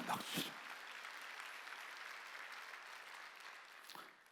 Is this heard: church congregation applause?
yes